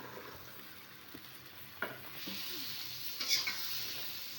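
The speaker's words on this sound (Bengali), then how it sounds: "এখন ভালো করে কষা নিব" New potatoes and beans are stirred into spiced oil in a pan, a soft sizzle that swells after a few sharp scrapes and knocks of the stirring spoon.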